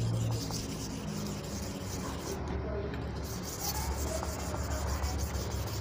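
A slaughter knife is slowly sharpened on a natural whetstone, working the corner and heel of the blade, making a steady, continuous gritty scraping that runs close and unbroken throughout.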